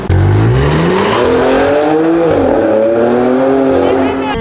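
A GT4 race car roars loudly from inside the cockpit on the Pau street circuit at the 2018 Grand Prix de Pau, its engine note climbing, dipping briefly at a gear change, then rising again under hard acceleration.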